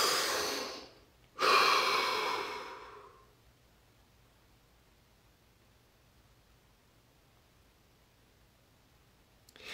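A deep breath drawn in and released close by, a long airy inhale and exhale in the first few seconds, then near silence in a calm relaxation setting.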